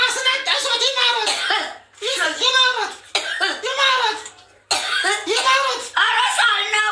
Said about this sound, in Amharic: ኧረ ሳል ነው።